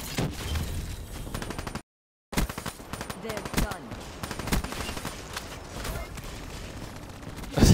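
An automated sentry gun in a first-person shooter, part of a 700-kill challenge, fires rapid sustained bursts of machine-gun fire that dominate throughout, with a brief silent gap early on and a player's voice mixed in beneath the gunfire.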